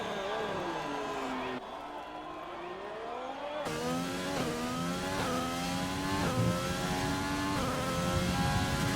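A Renault Formula 1 car in a racing video game, the Bahrain circuit, whines through rising and falling engine revs as it changes gear, loud and continuous, with a brief break in tone early on.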